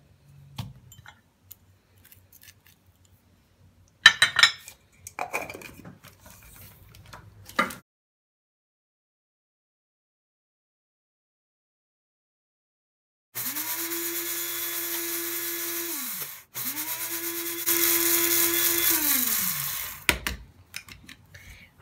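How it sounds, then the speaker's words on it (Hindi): A small electric grinder whirs as it grinds coriander, fennel and cumin into powder, running in two loud steady bursts split by a brief pause, after earlier scattered clinks and handling noises. "पहले इन 3 चीज़ों को हम पीस लेंगे।"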